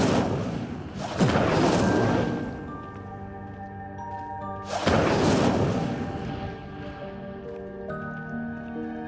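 Casting the Incendio fire spell in Hogwarts Legacy produces two loud whooshing bursts of flame several seconds apart, each trailing off into ringing, tonal magical shimmer.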